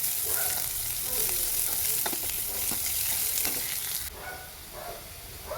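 Ginger, green chilies and curry leaves sauté in oil for a Kerala nellika moru curry, a close continuous sizzle with sharp spits and crackles that drops slightly quieter near the end, without talk.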